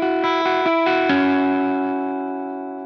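Electric guitar chord notes ring together through delay effects: a few quickly repeated plucked notes build into one sustained, shimmering chord that slowly fades out.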